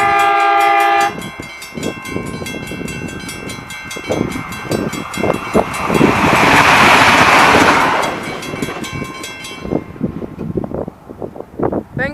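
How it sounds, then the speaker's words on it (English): Train running through the Olympic Highway level crossing at Illabo, New South Wales, sounding a loud sustained horn at the start, then a heavy rumbling, clattering pass of wagons that builds to a roaring peak and trails off with rhythmic wheel clacks. "the train's coming up from Illabo now"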